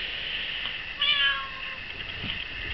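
A stray tortoiseshell cat gives a single short meow at mid-level volume over faint background hiss, with no talking.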